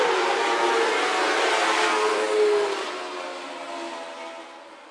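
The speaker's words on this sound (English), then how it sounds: "Alex Amon set to fire us off once again out of corner number four for the B main event" Rocky Mountain Dwarf Cars roaring out of corner four at Phillips County Raceway's dirt track for the B main event, a loud sustained engine drone that swells and then fades as the pack passes.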